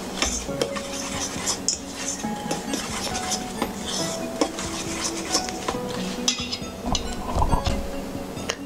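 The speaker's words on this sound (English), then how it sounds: "So I have the butter, melted butter, flour, sugar, vanilla, and brown sugar. Let's mix this together." Cookie dough of melted butter, flour, sugar, brown sugar and vanilla mixed in a bowl, a steady run of close spoon scraping and clinking against the bowl with no voices.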